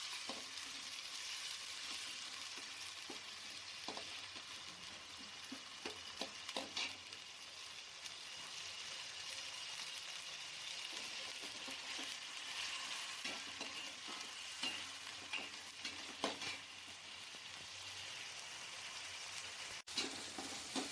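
Tomatoes fry and sizzle in a pan for chicken biryani, a steady dense crackle running the whole time with occasional louder spits and stirring scrapes, close and alone without any voices.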